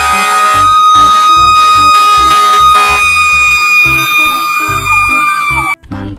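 A toy fire truck siren wails loudly and continuously with steady horn-like tones, while a rhythmic toy tune or beat thumps underneath, then cuts off abruptly near the end.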